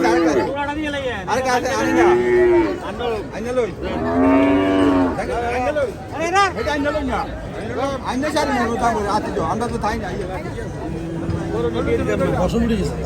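Cows moo repeatedly, loud and close, over a crowd's chatter and people talking nearby, at a cattle market in Chandimura, Comilla, Bangladesh.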